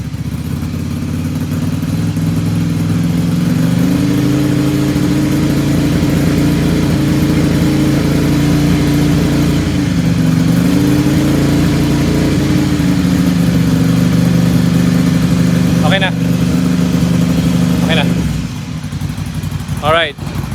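Motorcycle exhaust, BMW S1000XR or Ducati Scrambler 800, held steadily at 3,000 RPM, a loud sustained drone with slight wavering, people talking over it near the end.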